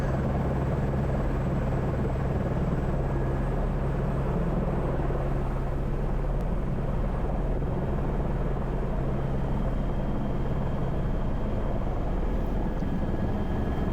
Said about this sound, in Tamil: டோர்லெஸ், அதாவது ஓப்பன் டைப் ஹெலிகாப்டர்.